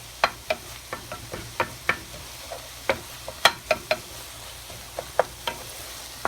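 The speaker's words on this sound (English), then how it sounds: "I'm going to mix it all in to make sure everyone gets a bit of something." A spoon stirs sausage and vegetables seasoned with cayenne pepper and garlic powder in a pan for an omelette, giving sharp, regular scraping clicks about twice a second under a soft steady sizzle.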